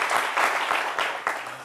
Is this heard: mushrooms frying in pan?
no